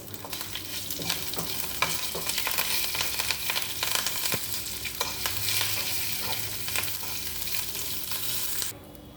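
Curry leaves and slit green chillies frying in hot oil for a tempering, a dense continuous sizzle with stirring scrapes, close and loud, ending abruptly.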